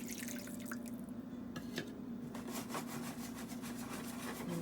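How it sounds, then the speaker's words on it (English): Water poured over about two cups of chopped carrots in a pot, a steady close trickle and splash with drips running under a constant low hum, no voices. "I'm going to be adding 2/3 cup of water."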